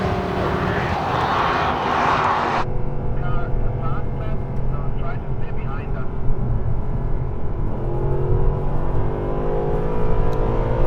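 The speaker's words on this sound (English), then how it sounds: "Full throttle down the front straight," Mercedes-Benz SLS AMG Black Series, a street-legal race car on 275 tires, at full throttle down a track's front straight: a steady, loud engine roar with a brief broad rush of wind noise at the start.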